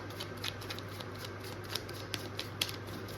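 Tarot cards being shuffled by hand, a run of quick riffling flicks and soft slaps with a few sharper snaps, close and fairly quiet against a steady hum.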